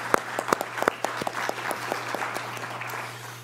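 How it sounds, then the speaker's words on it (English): A conference audience at a liver transplant meeting gives a short burst of applause, sharp individual claps at first that blend into steady clapping before fading away. "I want to give them a round of applause for that."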